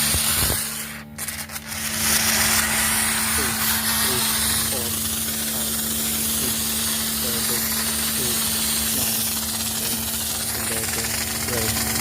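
An air-compressor-type foaming machine spraying foam produces a loud, steady hiss under a constant low mechanical hum, lasting the whole time with a brief dip near the start.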